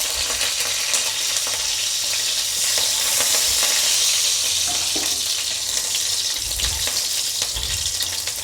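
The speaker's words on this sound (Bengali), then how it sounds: "রসুনগুলোও একটু আমি ভালো করে ভেজে নেব" Whole garlic cloves sizzle and fry steadily in hot oil, with occasional stirring scrapes, loud and close throughout with no talking.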